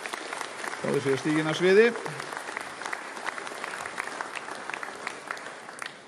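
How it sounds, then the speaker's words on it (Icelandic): An audience applauds after a musical performance by a group from Þingeyjar at an Icelandic event; steady mid-level clapping runs throughout while someone speaks over it briefly near the start. "rétt að gefa þeim bara gott klapp"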